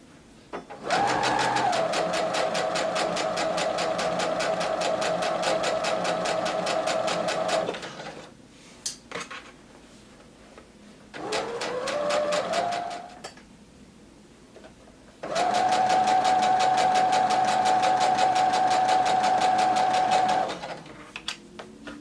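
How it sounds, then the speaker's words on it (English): Sewing machine stitching a pocket seam on a half circle skirt, running in three loud steady bursts with a rapid mechanical whir, the first and last long, a shorter one in between, separated by brief pauses. "Go ahead and begin sewing."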